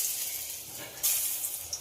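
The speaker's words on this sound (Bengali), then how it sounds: "একই রকমভাবে সবগুলোকে ভেজে নেব।" Fritters made from jackfruit seeds and egg sizzle in hot oil in a pan, a steady bright hiss with a brief louder crackle partway through and no talk.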